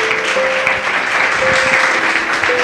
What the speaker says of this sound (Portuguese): Louve a Ele com as suas palmas bem forte.